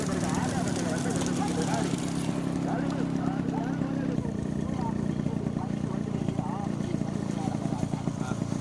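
Bulls in a bullock cart race thunder past, a dense continuous drumming of hooves and cart noise under a loud crowd and commentary voices.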